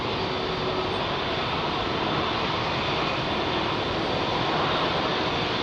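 A large airliner landing at London Heathrow Airport on New Year's Day, its broad steady engine roar filling the air continuously with no voices over it.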